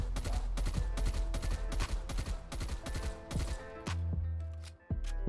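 Rapid automatic gunfire in a video game rings out in a string of close, loud bursts with a steady rhythm, then stops with a ringing tail and a couple of isolated shots at the end.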